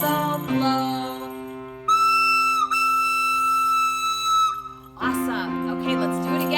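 A bright, sustained toy train whistle sounds for a few seconds between stretches of melodic singing or music, steady and close.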